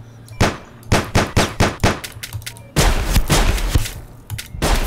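Gunfire in the video game Sir, You Are Being Hunted: a run of loud, sharp shots in quick succession, then a dense burst of heavy firing and booms, all close and loud.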